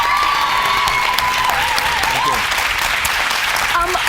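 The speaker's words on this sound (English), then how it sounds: "Round of applause, please, to our guest judge" Audience applause fills the hall for a guest judge on a South African youth leadership television show, a steady, loud, dense clapping that runs through the whole stretch with some cheering mixed in.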